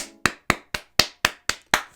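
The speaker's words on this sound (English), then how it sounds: "Let's give Jordan a round of applause." Eight sharp, evenly spaced claps ring out close and dry, a steady quarter-second beat with nothing else underneath.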